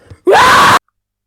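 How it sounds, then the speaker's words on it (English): A single short, loud, strained scream, one harsh burst of under half a second that cuts off abruptly into silence, voiced in an animated tabletop role-playing story. "Hearing the scream"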